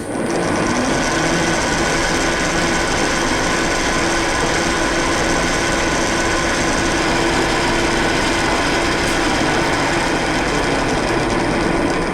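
A machine tool cuts a metal connector for a rotating welding positioner, producing a steady, loud, continuous whirring and grinding drone that holds without pause for the full duration.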